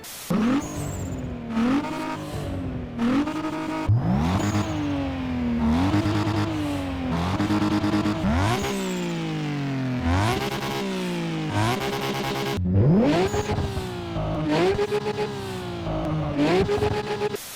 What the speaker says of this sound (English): Compare the different engine levels of this Toyota Supra.